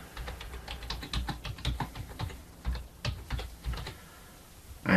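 Computer keyboard typing in a quiet room while a site name is entered: rapid, irregular bursts of close keystrokes with brief pauses, a clearer clack at the very end.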